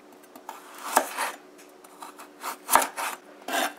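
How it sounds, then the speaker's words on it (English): A knife cuts carrots into julienne strips on a board, giving repeated scraping, rasping strokes with two sharper chops, close and clear, in an irregular rhythm with no talking. "this is the way you want to cut your carrots"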